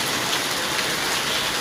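Heavy rain pouring down steadily, a dense, loud, continuous hiss of drops hitting surfaces nearby, with no talk.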